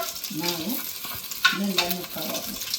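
Ghee sizzles steadily in a frying pan, a continuous crackling hiss with a few sharper spits and scrapes, fairly close and alone without talk.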